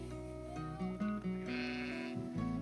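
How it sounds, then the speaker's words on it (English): Young newborn lambs bleating on a farm, several overlapping wavering cries close by and fairly loud, one call rising after another with no talk. "They're strong little lambs, aren't they?"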